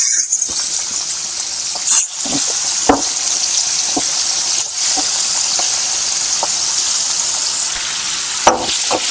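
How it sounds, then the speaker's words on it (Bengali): Prawns marinated in salt and turmeric sizzle steadily in hot oil, a continuous close, loud crackle broken by scattered sharp pops and spatters. "এবার আমি এই যে চিংড়ি মাছগুলো কেটে রেখেছিলাম, কেটে নুন হলুদ দিয়ে ম্যারিনেশন করে রেখেছিলাম, তো এগুলো আমি তেলে দিয়ে দেবো।"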